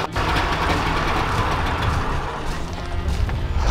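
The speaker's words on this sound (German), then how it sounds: "Der Motor klingt gut" An old Trabant 601 engine runs steadily at idle with a rough, rumbling low drone and no speech over it.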